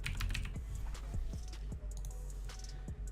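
Rapid clicks of a computer keyboard as someone types a short command, a quick run of crisp keystrokes close by with no talking.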